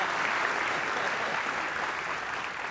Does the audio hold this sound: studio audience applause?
yes